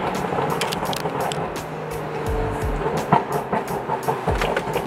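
BMW with a Bootmod3 tune in sport mode, window down, engine rumbling with low exhaust burbles and a few sharp pops, steady and close throughout.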